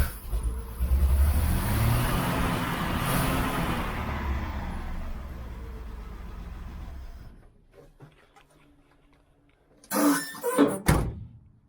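A 1972 Chevy Nova engine runs rough and loud just after a cold start for about seven seconds, then drops away to near quiet before a couple of short bangs and clunks near the end.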